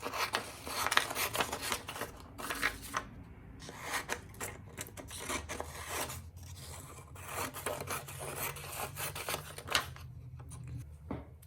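Scissors snip steadily through a printed paper design template for blanket embroidery, a dense run of close, crisp cuts and rasping paper with brief pauses.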